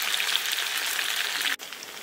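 Lightly sautéed garlic cloves frying in hot oil in a pan for garlic pickle, a steady bright sizzle and crackle that briefly dips near the end.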